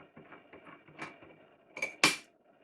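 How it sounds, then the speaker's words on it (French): Plastic nut being unscrewed on an Oase Bitron Premium UV clarifier, a series of small plastic clicks and ticks building to two sharper knocks near the end, close and fairly quiet. "On dévisse l'écrou plastique."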